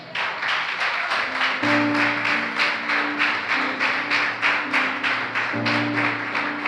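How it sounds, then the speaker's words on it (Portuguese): Church congregation clapping along in a steady rhythmic beat, loud and continuous throughout, with sustained organ or keyboard chords underneath. "Quem crê, aplaude a Jesus."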